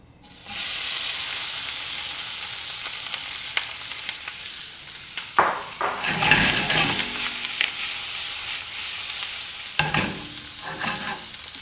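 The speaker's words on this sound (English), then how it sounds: "Because we want brown butter, not scorched butter." Butter browning and sizzling in a skillet beside corn, a steady close frying hiss with bursts of spattering and occasional stirring scrapes, no voices.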